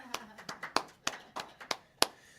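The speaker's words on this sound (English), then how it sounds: "Let's give him a round of applause here." A small audience claps in loose, separated bursts, roughly eight sharp distinct claps spread over a couple of seconds rather than a full roar, fairly close and dry.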